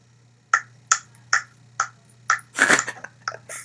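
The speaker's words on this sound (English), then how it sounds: "This guy claps so pathetic." A single person claps several times, sharp isolated slaps spaced about half a second apart, followed by a brief burst of rustling or a flurry of claps, close and fairly clear over a low steady hum.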